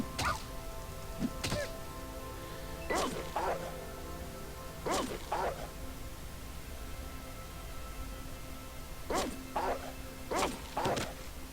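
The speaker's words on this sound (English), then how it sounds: "These are some incredibly hostile dogs." Several short bursts of hostile dogs barking in the video game Fallout 2, in clusters of two or three, with a steady background hum and some talk underneath.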